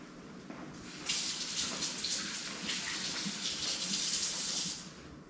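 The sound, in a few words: washing hands under running water at kitchen sink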